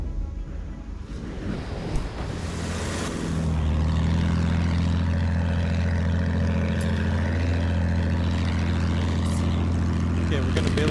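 A propeller attack plane droning steadily in Battlefield 1 on the Sinai Desert map, a low engine hum that swells after a few seconds and holds loud and constant, with voices talking over it.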